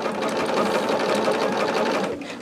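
A sewing machine runs nonstop close up, a fast even whirring stitch as quilt row sets for a scrap quilt are sewn together, slowing slightly at the very end.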